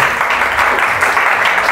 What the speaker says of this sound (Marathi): या जोरदार टाळ्या वाजवा त्या परमेश्वराचा